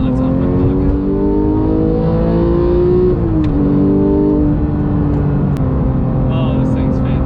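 A Porsche 991.2 GT3 with a manual gearbox drones loudly and steadily from inside the car, its engine note sliding up and down as it revs, with a dip and recovery mid-run and a constant whine over road noise.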